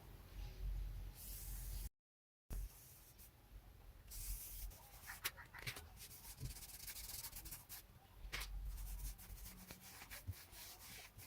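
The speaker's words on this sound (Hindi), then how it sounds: "आपने देखा ये कितने आसानी से ये इतना हिस्सा हमने पॉलिश कर लिया है" A cloth pad dipped in polish rubs back and forth over wooden furniture, making a steady, faint, close brushing and scrubbing hiss with light rhythmic strokes and no talking.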